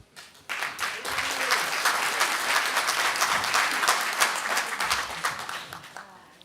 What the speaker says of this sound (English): I think that's probably the last clap I get for a while